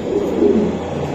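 A female pigeon coos close by in a loft or market, a low continuous murmuring call held steady through the moment, alone without talk.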